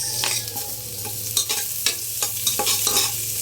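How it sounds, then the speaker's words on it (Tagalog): Onions and ginger sautéing in a pan for pork nilaga, a steady sizzle under repeated sharp scraping and stirring strokes from a utensil, close and fairly loud, with no talk. "konting gisa-gisa lang yan yan then ang ating sibuyas"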